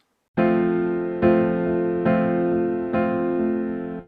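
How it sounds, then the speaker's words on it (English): Four sustained piano chords struck at an even pace, each ringing into the next, with faint soft off-beat single notes between them. "He uses a really common technique that I call pumping the eighth notes"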